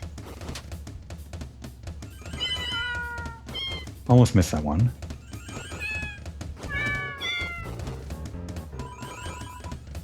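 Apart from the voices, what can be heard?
cats meowing when petted in the video game Deltarune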